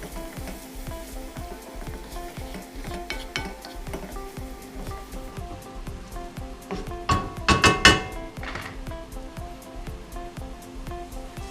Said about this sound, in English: Give them a good mix.